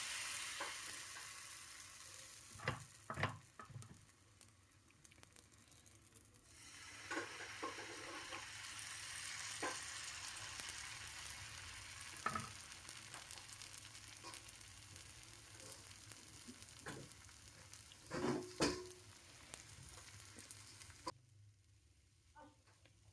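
Patishapta batter frying in ghee, a low steady sizzle broken by scattered clicks and scraping stirs of a utensil against the pan, with a few louder knocks near the end and no talk.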